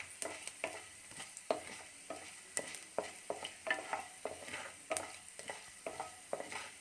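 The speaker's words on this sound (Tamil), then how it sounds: "உளுந்தம்பருப்பு வந்து கொஞ்சம் செவந்து வர வரைக்கும் லைட்டாக கிளறி விட்டுக்கோங்க." Urad dal and mustard seeds fry in hot oil for a potato masala fry while a spoon stirs them, giving a steady crackling sizzle punctuated by regular scraping strokes against the pan, close up with no talking.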